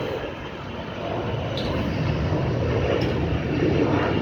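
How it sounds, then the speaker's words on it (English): A DHL cargo plane takes off at Grantley Adams International Airport in Barbados, its engine roar a broad, steady rumble that swells slightly as it goes on. "You can even see the DHL plane taking off."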